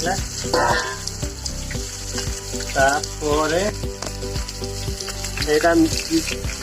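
Half a kilo of mutton fries in hot oil in a clay pot, a continuous close sizzle with bubbling and stirring while a voice talks over it.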